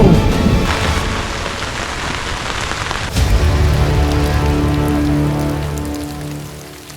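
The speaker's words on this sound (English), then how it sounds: "We've been back for 10 minutes and this storm rolled in." A storm rolls in over the water where boats are out. Heavy rain hisses and patters loudly and steadily, and a deep rumble of thunder swells partway through and lingers under the downpour.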